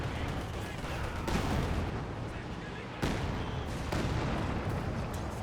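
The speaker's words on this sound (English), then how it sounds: "here comes the Tushkan rocket barrage" A Tushkan rocket barrage in Company of Heroes 2, a dense roaring volley of rocket fire with sharp booming onsets around the middle, continuous and loud throughout.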